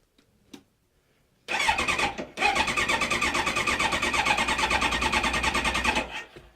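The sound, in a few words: Kawasaki Ninja ZX-9R motorcycle engine starting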